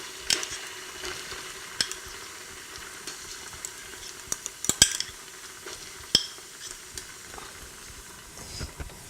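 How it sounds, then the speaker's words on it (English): Mixed tomato paste frying in a pot for Nigerian spaghetti jollof gives a soft, steady sizzle, broken by scattered sharp clicks and scrapes of a spoon stirring against the pot. "I'm going to add my tomato paste, the one that I mixed together, and then I'm going to fry that first."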